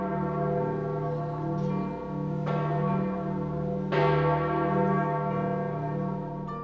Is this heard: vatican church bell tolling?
yes